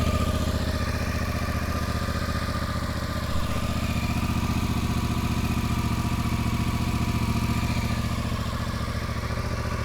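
Yamaha Tracer with the CP2 twin engine and original exhaust idling up close, a steady, even, rumbling thrum with a light mechanical clatter, constant in level throughout with no talking.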